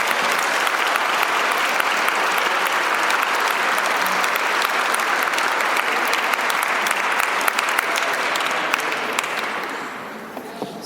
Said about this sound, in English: please give me one more big round of applause for all the people